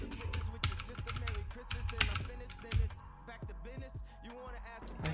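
Rapid typing on a computer keyboard with irregular clicking keystrokes, close and fairly quiet, running under a person's speech.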